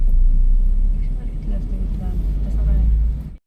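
A car is being driven out: a steady deep engine rumble from inside the car, loud and close, with a voice speaking over it.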